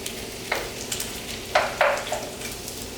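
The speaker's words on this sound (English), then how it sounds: "Hear that sizzle now?" Vegetables for a stir-fry sizzle in a hot pan, with several sharp bursts of crackling as they are stirred and tossed, close and fairly quiet, no voices.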